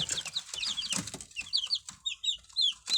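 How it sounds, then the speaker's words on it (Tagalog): Young Rhode Island Red and broiler chicks under a heat source, a busy flock of close, high, rapid peeping and soft clucking calls overlapping in quick bursts. "Rhode Island na broiler chicken."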